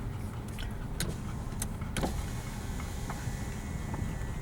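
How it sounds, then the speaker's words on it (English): A car's power window motor whirs in a steady electric hum, with a few light clicks and ticks from inside the vehicle. "putting the window down for the kids parking"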